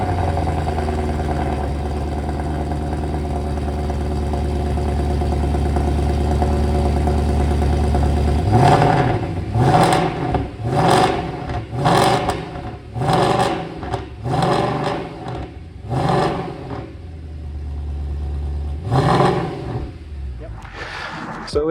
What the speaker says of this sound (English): The M156 is one of the best sounding engines out there.